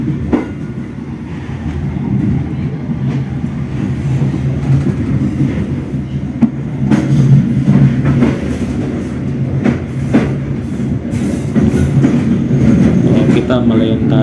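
A commuter train rolls across an English switch at Kampung Bandan station, its low rumble steady and close with faint rhythmic wheel clatter over the points throughout.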